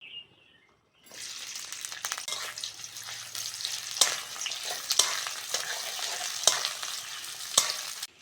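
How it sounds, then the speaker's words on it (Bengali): Green chilli and chopped onion dropped into hot oil, a sudden burst of sizzling after a quiet start that keeps crackling and spitting steadily, with occasional sharp pops and stirring clinks close by. "তেলের মধ্যে কাঁচা লঙ্কা আর পেঁয়াজ কুচিটা দিয়ে দেবো"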